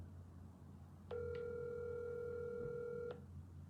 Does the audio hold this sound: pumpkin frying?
no